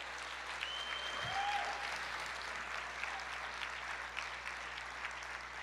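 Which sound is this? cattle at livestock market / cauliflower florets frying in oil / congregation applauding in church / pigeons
congregation applauding in church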